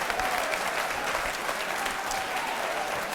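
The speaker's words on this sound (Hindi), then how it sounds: "जोरदार तालियां बजाइए, जोरदार तालियां, तालियां जोरों से बजाइए" Steady, dense applause from a large crowd at a college quiz show, loud and continuous throughout with no pauses.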